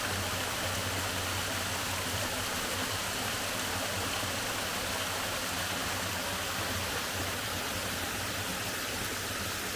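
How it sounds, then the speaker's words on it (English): Loyalsock Creek rushes over rocks toward the Haystacks in Loyalsock State Forest, a dense, steady roar of flowing water filling the whole stretch without pause, close and loud, with no voices. "Right behind me is the Loyalsock Creek, flowing down towards the Haystacks and World's End State Park."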